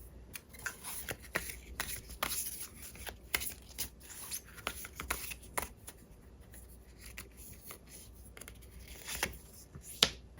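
Tarot cards are shuffled by hand, with rapid riffling bursts and crisp flicks and slaps of card stock repeating throughout, close and fairly quiet, ending with a sharper snap as a single card is drawn.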